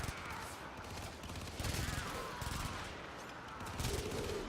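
Rapid SMG bursts from the Baza submachine gun in the shooter game Warframe, stuttering in loud clustered volleys with short gaps, close and dense over a constant game mix.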